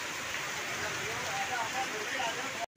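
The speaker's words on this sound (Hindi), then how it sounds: "ज़बरदस्त बारिश हो रही है" Heavy first rain of the season falling in Mandla in 2022, a steady dense roaring hiss that stays constant throughout before cutting off abruptly at the end.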